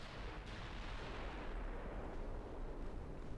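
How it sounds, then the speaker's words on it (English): 14-inch naval guns firing in Ultimate Admiral: Dreadnoughts, a dense rolling rumble of distant heavy gunfire and blasts that stays at an even level throughout, with no talking. "Agincourt is getting clipped by the battle cruisers, 14-inch guns."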